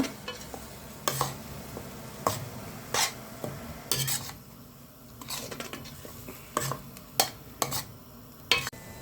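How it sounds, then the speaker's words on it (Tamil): A spoon scrapes and stirs around a pot of okra tamarind curry in repeated sharp strokes, with a faint sizzle underneath and occasional clinks of metal. "கிண்டி விட்டுக்குவோம் நல்லா"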